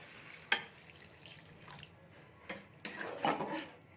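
Water poured into a cooking pan of softened, melted-down tomatoes for a small-fish jhal curry, giving a soft, faint splashing and trickling with a few brief knocks, close by.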